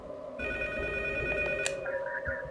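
Telephone ringing in the horror video game P.T., a steady electronic trill with sustained tones that continues through the whole short stretch at moderate level, with no talking over it.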